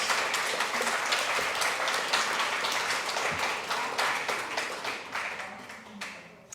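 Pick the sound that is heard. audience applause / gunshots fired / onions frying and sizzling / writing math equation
audience applause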